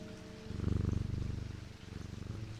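A cat purrs steadily in a rhythmic, close, low rumble, heard while it is being petted, with no voices over it.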